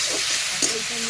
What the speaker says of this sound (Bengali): তেলের ওপর আমি পেঁয়াজ আর রসুনটা দিয়ে ভালো করে